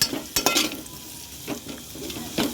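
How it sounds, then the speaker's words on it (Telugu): Beetroot fries in oil in a pan with a soft, steady sizzle, punctuated by a few sharp spoon-on-pan knocks from stirring, close and without talk. "ఆ నూనెలో వేసుకోవాలి బీట్రూట్ అయితే"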